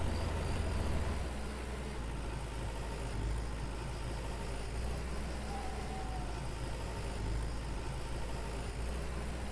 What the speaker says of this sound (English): And hop back into the tractor.